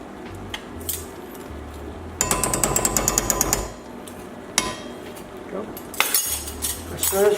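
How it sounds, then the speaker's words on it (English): Orzo with butter is stirred in a pan with a metal utensil, giving clattery scraping bursts and a rapid run of clinks against the pan, interspersed with quieter pauses and isolated knocks, close by. "stir this for about 2 minutes."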